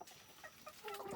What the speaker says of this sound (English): so these are Wyandotte Aracuna crosses